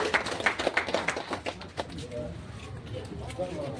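Audience applause called for municipal workers at an event in Kadapa city, a burst of claps in the opening second and a half that thins into crowd noise and talking.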